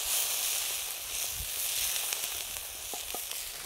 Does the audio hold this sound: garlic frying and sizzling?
yes